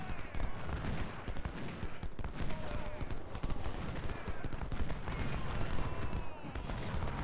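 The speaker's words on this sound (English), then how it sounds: "that was a pretty hefty volley that we took there" Artillery and musket volleys in the Civil War strategy game Ultimate General, at the Battle of Fredericksburg: a continuous rumble of overlapping gunfire and cannon booms, dense and mid-distance, with someone talking over parts of it.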